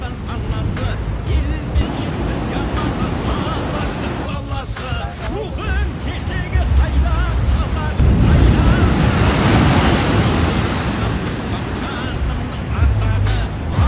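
Pacific Ocean waves washing onto the shore at Venice beach, a steady rolling surf roar that swells louder midway, mixed with wind buffeting the microphone and occasional voices.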